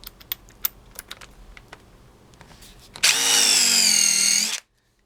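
A power drill spins a countersink bit into wood, a loud steady whine lasting about a second and a half and then cutting off abruptly. Faint scattered clicks and handling taps come before it.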